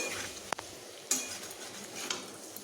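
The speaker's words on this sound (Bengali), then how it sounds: "এবার সবগুলোকে আরেকটু ভালোভাবে ভেজে নেব" Fried paneer stirred in a pan with a utensil, giving a few sharp metallic scrapes and clinks over a faint, soft background sizzle. Close and quiet, with no voices.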